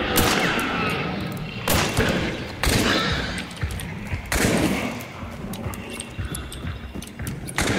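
Heavy Magnum revolver shots crack out in Hunt: Showdown, four or five loud, close blasts spaced irregularly a second or more apart, each with a short booming decay over background game noise.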